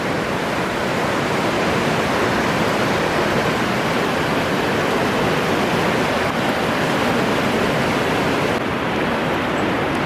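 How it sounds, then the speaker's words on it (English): River running high and strong at Riverside State Park near the Bowl and Pitcher, a loud, steady rushing roar of whitewater with no breaks. "here we are right down at the river. You can see the bridge up above. And she's really flowing."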